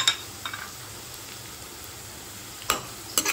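Stir-frying carrots, beans and capsicum in a pan with cashews and raisins added for homemade fried rice: a soft, steady sizzle with a few sharp stirring clicks near the start and end, quiet and without talk.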